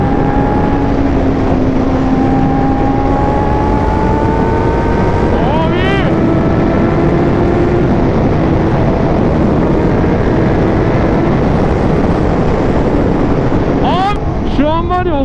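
Loud, steady wind roar buffets the microphone while riding a 1000cc motorcycle, with a droning engine tone underneath and brief higher revving sweeps near the middle and end.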